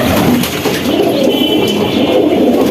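High-flyer pigeons coo together in a home loft, a loud, dense, continuous low burbling chorus close by, without speech.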